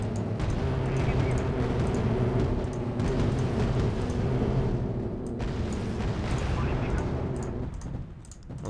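Distant booms and weapons fire from a Wargame: Red Dragon battle rumble steadily beneath someone talking, with occasional louder bursts and explosions.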